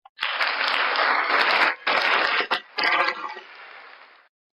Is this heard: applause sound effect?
yes